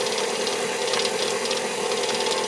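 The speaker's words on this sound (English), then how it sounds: "And we're gonna just mix this together. I have my paddle attachment on here." A stand mixer with a paddle attachment beating brownie cheesecake filling, a loud, steady mechanical whir with a rhythmic clattering pulse from the paddle, close and continuous with no talk.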